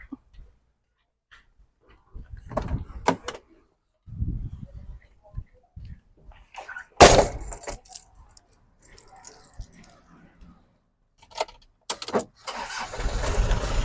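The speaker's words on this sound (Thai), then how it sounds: "เดี๋ยวสตาร์ทฟังเสียงเครื่องให้ดูนะครับ" Keys jingle and clunk nearby before a 1997 Isuzu Dragon Eye pickup's 2.5L diesel engine cranks and starts with a loud burst, then runs amid clatter and handling noises.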